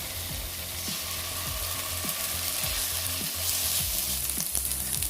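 Chopped onions, green chillies and ginger garlic paste sizzle loudly in hot oil for a chicken parotta, a steady close frying hiss with periodic scrapes of a spoon stirring the pan.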